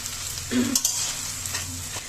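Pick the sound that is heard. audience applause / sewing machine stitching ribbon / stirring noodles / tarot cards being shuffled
stirring noodles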